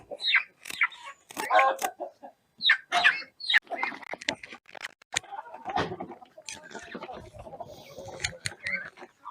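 Chickens cluck and scratch about a poultry yard in a busy, irregular stream, close by and moderately loud, with rustling in between the calls.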